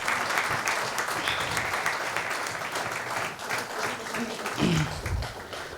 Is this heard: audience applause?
yes